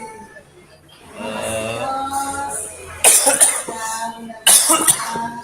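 A person coughs sharply twice, loud and close, with murmuring voices in the background.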